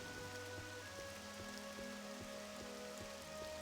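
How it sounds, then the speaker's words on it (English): Steady rain falling in the Elder Scrolls 3 video game, a constant soft patter of drops with a faint low hum behind it, no voices. "Why do you like the rain?"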